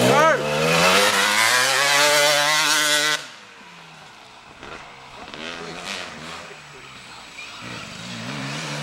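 A KTM 250 two-stroke dirt bike engine screams through high revs at close range, then cuts off abruptly; afterward fainter engine noise lingers under people talking and calling out.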